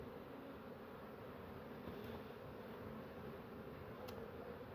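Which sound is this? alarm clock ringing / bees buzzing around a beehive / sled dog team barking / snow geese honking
bees buzzing around a beehive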